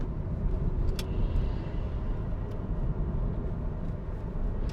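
A 2000 Mitsubishi Lancer Evo Tommi Makinen being driven, giving a constant low engine drone and road rumble from inside the car, steady and moderately loud.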